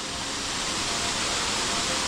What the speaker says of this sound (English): If I go hard left there, I should be able to get up and get even closer to the waterfall there.